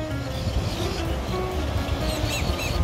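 Birds chirping and calling over steady surf and wind at Flagler Beach in Florida, a constant wash of waves with scattered faint bird calls throughout.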